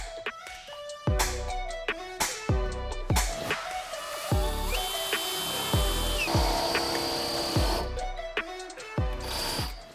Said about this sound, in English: Then we'll get it drilled out.